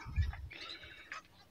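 Small birds chirp a few times in a mini aviary housing newly added quail, short bright calls close by with a low thump near the start and no talk.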